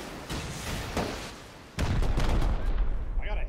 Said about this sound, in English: It's me rocketing into this guy